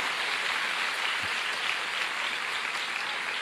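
An audience at a sermon by KH Anwar Zahid at Al-Falah Ploso Putri claps in a sustained, even wash of applause that sounds fairly distant and soft, with no speech over it.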